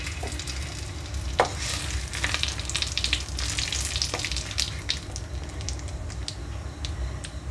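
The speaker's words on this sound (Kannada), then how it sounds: "ಎಣ್ಣೆ ಬಿಸಿಯಾಗ್ತಾ ಇದ್ದಾಗೆ ಒಂದು ಟೀಸ್ಪೂನ್ ಅಷ್ಟು ಜೀರಿಗೆ, ಒಂದು ಪಲಾವ್ ಎಲೆ ಹಾಕ್ತಾ ಇದ್ದೇನೆ" A teaspoon of cumin seeds and a bay leaf crackle and sizzle in hot oil for matar paneer. The spitting is busy and close, with sharp pops scattered over a steady hiss.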